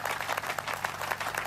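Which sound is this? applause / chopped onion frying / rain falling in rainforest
applause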